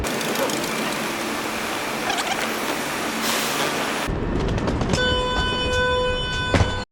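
A Thalys high-speed train sits at a station platform, with a broad hum of rail and station noise that gives way to a sharper mechanical rumble and steady electric whine from the train, close by and with no talking.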